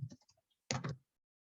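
Short bursts of computer keyboard typing, a few light scattered key clicks followed by a quick denser flurry of keystrokes, close and fairly quiet, with no talking.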